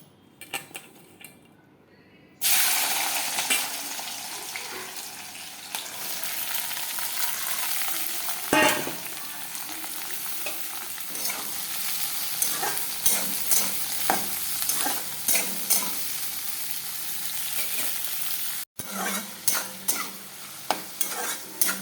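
Ingredients fry in hot oil in a kadai for fried rice, starting with a sudden loud sizzle as they go in, then a continuous close crackle punctuated by repeated metal spatula scrapes and clinks against the pan.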